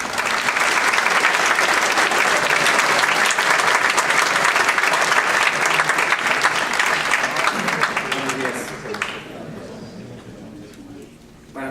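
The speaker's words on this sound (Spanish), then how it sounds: "Recibamos con un aplauso al arquitecto Rommel Samuel Silva Saldaña." An audience at an architecture lecture gives a loud, sustained round of clapping to welcome the architect, the applause filling the room before tapering off near the end.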